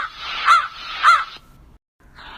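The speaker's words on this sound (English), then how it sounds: "Crow." A crow gives two loud, harsh caws about half a second apart, then a short silence before a fainter sound begins at the end.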